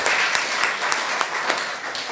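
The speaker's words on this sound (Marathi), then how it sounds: "जोरदार टाळ्या त्यांच्यासाठी." Audience at a Marathi career-guidance motivational lecture breaking into brief applause, a dense burst of clapping with a few sharper individual claps, fairly close and alone.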